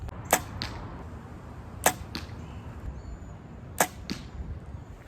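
Three arrows loosed from a bow while sighting in at Platte Falls, each a sharp release followed shortly by a thud into the target, evenly spaced about a second and a half apart over quiet outdoor ambience.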